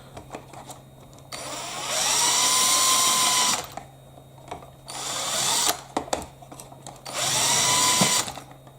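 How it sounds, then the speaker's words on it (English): A drill countersinks two holes in the body part of a Bruder CAT telehandler model, giving three close, loud whirring bursts of a few seconds each, separated by short quiet pauses. "I'm going to use the countersink in these two holes at the end here."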